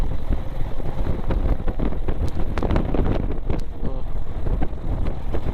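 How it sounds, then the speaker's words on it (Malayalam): Strong wind on an uphill climb buffets the microphone in gusty, rumbling bursts, loud and continuous throughout, with no clear speech. "മുകളിലേക്ക് കയറുമ്പോൾ കാറ്റ് കൂടുതലാ"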